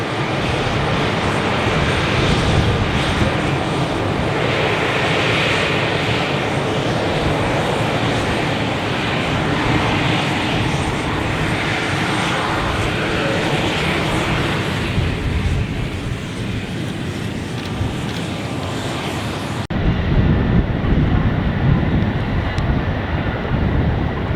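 Aircraft engine noise at the Farnborough Airshow, a loud, steady roar that swells and fades as a plane passes, with wind buffeting the microphone throughout and a sudden cut near the end.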